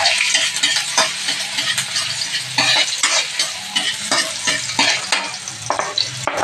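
Garlic sautés in a hot pan with a loud, close sizzle and constant frying crackle, while a spoon stirs and scrapes in quick irregular strokes.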